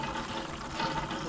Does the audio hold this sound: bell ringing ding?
no